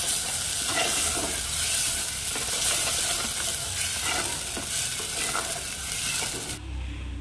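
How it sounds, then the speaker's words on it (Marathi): Ground spice paste for a Malvani radish curry sizzles and fries steadily in hot oil while being stirred, a continuous close crackle that cuts off abruptly near the end. "आणि तेलामध्ये 2 मिनटं परतून घ्यायचं."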